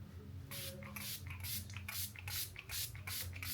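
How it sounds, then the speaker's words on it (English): Several quick hissing bursts of a setting spray bottle, evenly spaced about every half second, close to the mic, with a low steady hum underneath. "Dior setting spray."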